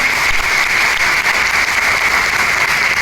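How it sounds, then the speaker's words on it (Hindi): A crowd applauding, dense and loud, with sustained clapping that holds evenly throughout without voices. "एक बार जोरदार तालियां मैम के लिए।"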